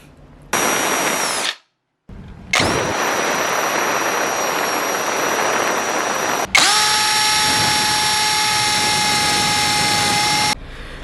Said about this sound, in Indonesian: jadi di sini gue akan coba untuk menyekrup sebuah sekrup ke dalam sebuah kayu